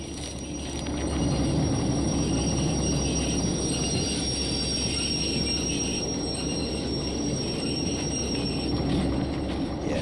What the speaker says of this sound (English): Start slowing the train down.